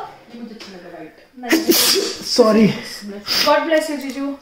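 A loud sneeze bursts out after a short spoken word, followed by more talking close by.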